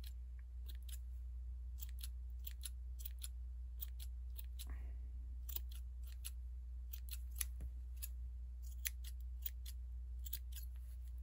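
Small scissors trim stray threads from a yarn pompom, quiet crisp snips coming in quick clusters of two to four cuts over a low steady hum, near and isolated, with no voices.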